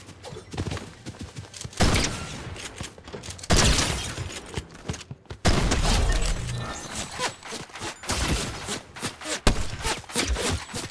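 An auto shotgun fires in a video game in loud, sharp blasts that come in bursts between quieter gaps, with clatter from other game effects in between.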